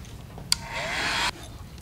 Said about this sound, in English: Now we'll give that a good heat set.